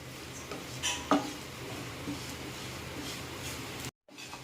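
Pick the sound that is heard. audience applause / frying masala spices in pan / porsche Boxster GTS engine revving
frying masala spices in pan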